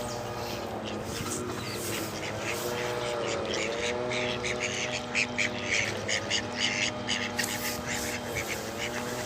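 Ducks quack in a cluster nearby while being fed small carrot pieces outdoors, a busy run of overlapping calls over a steady low rumble. The quacking thickens midway and carries on to the end.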